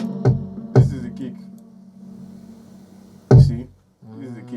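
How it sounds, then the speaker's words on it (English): Punchy kick drum hits in a producer's beat, several deep thumps at uneven spacing with a sustained low tone between them and a brief gap near the end, no talking. "this is the kick."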